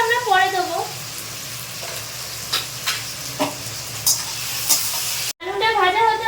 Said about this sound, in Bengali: আলুটা ভেজে নেবো সবার প্রথম